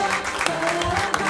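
Audience applause on a French television show for a guest named Willy Robelli, a dense wash of clapping filling the short moment with a brief spike or two on top.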